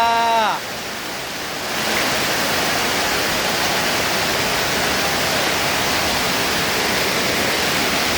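Heavy rain pours in a dense, steady roar that fills the scene after a brief voice at the start, continuous and loud throughout.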